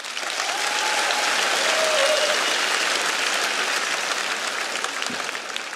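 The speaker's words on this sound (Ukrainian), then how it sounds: "А ви нас просто підтримайте оплесками." Steady, dense audience applause fills a comedy stage show's hall, holding loud and even throughout with a faint murmur of voices beneath.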